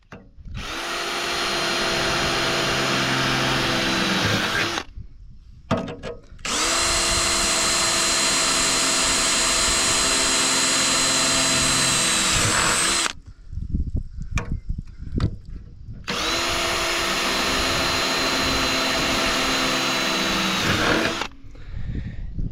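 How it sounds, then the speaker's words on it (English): A power drill with a small bit bores holes in the side of ranch feed bunks. It gives three long, loud, steady whines of about five seconds each, close by, separated by short pauses with faint rattling. "So I'm gonna drill a couple holes here in the side of these bunks just to get that water out of there."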